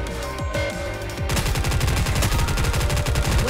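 Rapid continuous gunfire from a shooter in Goddess of Victory NIKKE, loud and close. A few scattered shots come first, then a dense unbroken stream of rounds runs to the end.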